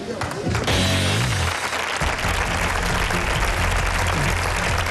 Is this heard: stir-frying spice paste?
no